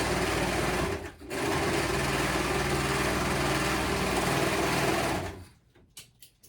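Sewing machine running steadily as it stitches a shirt seam for an easy summer shirt, loud and continuous with a brief pause near the start, then stopping into quiet near the end.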